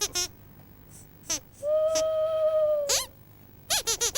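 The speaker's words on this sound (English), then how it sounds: "That's just an owl, Sweep." A drawn-out tonal owl call sounds at night amid cartoon character chatter, with a short high voice before and after the steady hoot.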